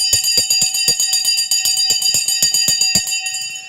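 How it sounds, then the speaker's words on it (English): Stock market opening bell ringing, a loud rapid electric bell clanging in fast steady strikes for about three seconds before stopping and leaving a fading metallic ring. "The bell has gone."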